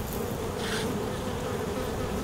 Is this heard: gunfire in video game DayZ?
no